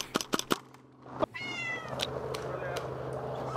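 A cat meow sound effect drops in during airsoft gameplay to cover swearing, one short, clear meow amid sharp airsoft gun shots and background noise, with someone talking around it.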